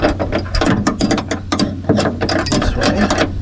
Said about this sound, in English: Put that wrench on there.